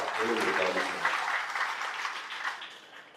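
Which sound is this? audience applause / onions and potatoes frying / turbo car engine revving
audience applause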